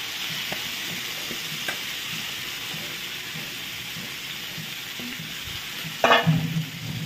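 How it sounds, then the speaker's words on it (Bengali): Marinated chicken sizzles steadily after going into a pan of fried onions, a continuous hiss with light scraping from stirring and a brief louder burst near the end. "এবার তার মধ্যে দিয়ে দিলাম আমি ম্যারিনেট করা চিকেনটা"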